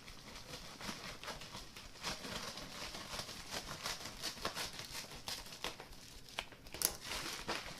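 Crinkly candy box packaging is torn open and handled, giving a steady run of close crackling and rustling with sharper tears scattered through it and no talk.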